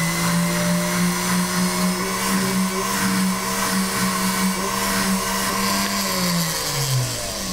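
A rotary power tool spins a polishing wheel against jewelry, giving a loud, steady motor whine that wavers slightly in pitch as the wheel works into recesses, with no talk.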